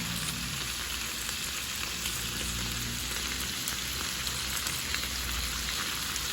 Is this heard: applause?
no